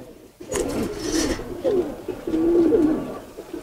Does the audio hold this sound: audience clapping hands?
no